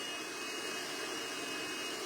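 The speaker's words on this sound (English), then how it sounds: "blow dryer in my hand to keep it pretty natural." Handheld blow dryer running steadily while drying a man's short hair during a barber styling session, a loud continuous close-up whoosh with no talk.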